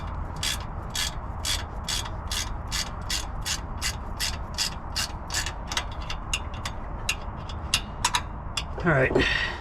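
A ratchet wrench clicks in a fast, even run of rapid pawl ticks while removing the sway bar from a 2020 Toyota 4Runner TRD Pro. The ticking is close and loud, then slows into scattered clicks, and a short creak follows at the end.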